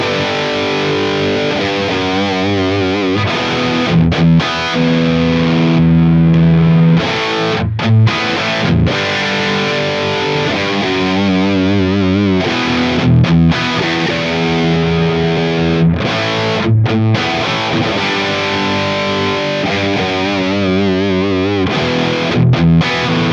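Electric guitar through an 808 overdrive pedal into an amp's channel 2, crunchy chords and riffs played loud and continuous with brief stops between phrases, no talking.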